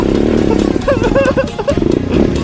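Honda Zoomer-X automatic scooter climbing a hill at Khao Phai near Pattaya, its engine giving a steady, close drone throughout while people talk over it.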